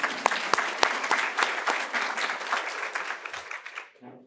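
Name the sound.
audience applause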